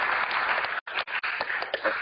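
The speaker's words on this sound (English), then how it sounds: "Please, round of applause." Applause from a conference audience at a UNESCO event on artificial intelligence, a burst of clapping with brief dropouts, moderately loud and somewhat thin in tone.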